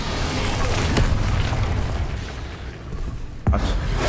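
An Incendio fire spell from Hogwarts Legacy bursts with a loud rumbling whoosh of flame, a sharp pop near the end rising above the ongoing roar of spellcasting combat.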